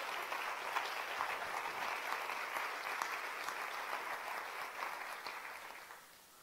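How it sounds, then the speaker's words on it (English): A symposium audience gives a steady, dense round of applause that holds at an even level for several seconds, then starts to thin and fade toward the end. "please give them another round of applause."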